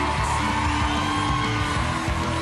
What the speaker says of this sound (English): Audience members, could we have a round of applause for your ladies' toned figure